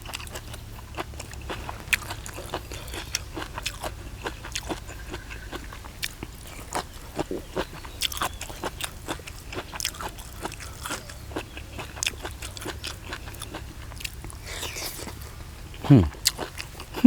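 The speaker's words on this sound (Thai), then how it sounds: "กรุบกรุบดีขนาด" Crunchy chewing of Thai koi made with fish-roe sabai nang and fresh herbs, with repeated close, sharp bites and crunches in an irregular rhythm under intermittent talk.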